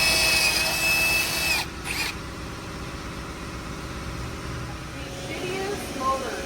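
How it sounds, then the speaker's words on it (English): A power drill boring holes through new felt moldings on a 1972 Buick LeSabre under restoration, a short loud burst at the start easing into a steady lower whir with faint shop noise. "so we have to drill them to the original."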